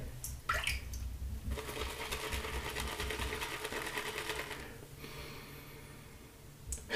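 Close, wet swishing and squelching of a shaving brush working soap into lather with dripped water, brisk and continuous, pausing briefly before resuming.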